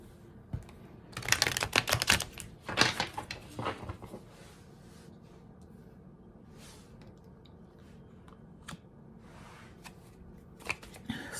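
Playing cards being shuffled in quick riffling bursts, loud at first, then a few softer flutters and taps amid quiet pauses.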